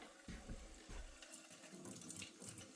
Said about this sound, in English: while I'm waiting for the water to empty out of the hot water tank